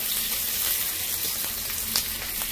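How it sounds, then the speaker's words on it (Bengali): Onions sizzle steadily in hot oil in a pan for a prawn and green jackfruit curry, with a dense close hiss and a few soft scraping knocks that suggest stirring. "পেঁয়াজগুলো দিয়ে দিচ্ছি, নেড়ে নিচ্ছি পেঁয়াজটা দিয়ে"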